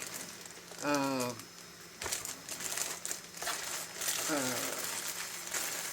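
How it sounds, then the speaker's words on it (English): Crinkly crumpling of packaging or plastic during an Airfix Avro Vulcan model build, loud and close in irregular bursts, while someone talks over it. "that crumpling's loud"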